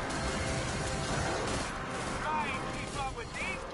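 Gunshots in the video game Forsaken crack out amid a dense, loud stream of game noise, with overlapping shots and a constant rumbling bed, while a voice talks nearby.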